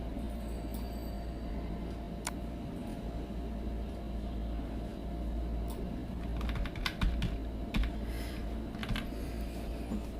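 Close typing on a computer keyboard, a steady patter of light key clicks over a constant low hum, quiet and without any voices.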